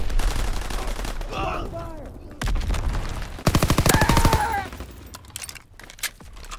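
Rapid bursts of gunfire in a WW2 video game set in the Ardennes, with dense machine-gun rattles and booms, loud and near, with voices shouting amid the shooting.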